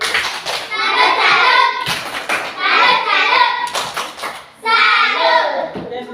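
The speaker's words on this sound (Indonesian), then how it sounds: "Oke, aplaus kepada teman-teman kelompok 3." Children in a classroom clap together for a student group in bursts across the clip, with short gaps between rounds and some young voices mixed in.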